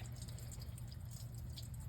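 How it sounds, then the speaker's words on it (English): Coolant draining from a Triumph engine block, a steady faint trickle and splash of liquid running without pause, with a low hum underneath. "now the block is draining like crazy"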